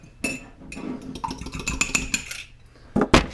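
A utensil stirs egg and milk together in a Christmas mug, producing close clinks and scraping taps against the ceramic in an irregular burst, ending with two sharper knocks.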